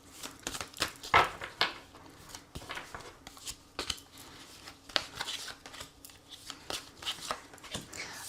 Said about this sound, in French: je vais prendre 3 cartes et on va voir les messages que les anges vous transmettent